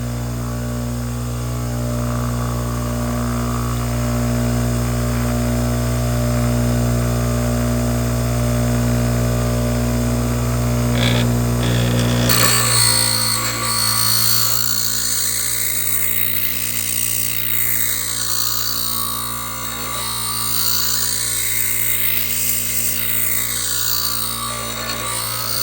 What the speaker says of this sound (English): Try to keep it really as consistent as you can against the grinder.